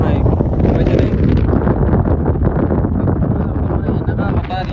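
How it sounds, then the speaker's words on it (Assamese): Strong outdoor wind roars and buffets the microphone nonstop, a loud, dense rumble strong enough to make driving difficult, with no pause throughout. "এনেকুৱা বতাহ আহি আছে চাওক"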